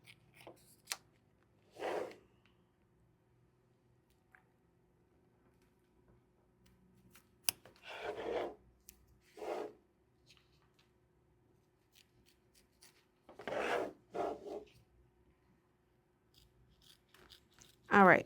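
Scissors snip embroidery thread on a baseball bag tag, a few short separate cuts in quiet surroundings, close and fairly soft, with gaps between them.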